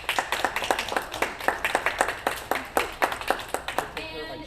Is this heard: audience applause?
yes